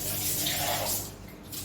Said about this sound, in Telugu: ఇలా వాటర్ అనేది దీంతో మనకు 2 గ్లాసులు పోయాల్సి వస్తుంది